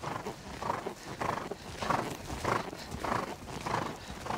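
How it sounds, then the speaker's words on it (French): A horse gallops on freshly cut grass in the rain, its hoofbeats landing in a steady, regular rhythm of about two strides per second, muffled and close by. "Galoper sous la pluie dans l'herbe, récemment coupée, est une occasion à saisir"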